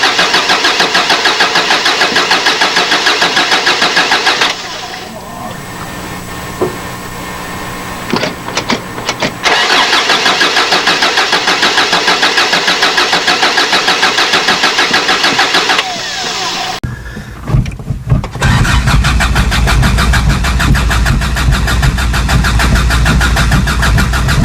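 A 1985 Toyota Pickup with a 22R engine starts cold: a loud, steady rough running note drops into quieter cranking and fumbling, catches again, dips once more, then settles into a strong continuous idle close by.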